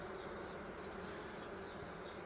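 Steady, faint droning buzz of many honeybees at a hive, continuous and unbroken, with no voices.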